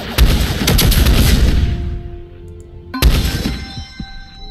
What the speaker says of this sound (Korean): 핵폭탄 14개 발사!